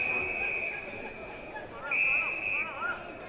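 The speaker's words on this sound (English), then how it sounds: "A lot of whistles going on" Whistles shrill from the crowd at a men's Premier League Australian rules football match, long sustained blasts and warbling trills rising over steady crowd murmur.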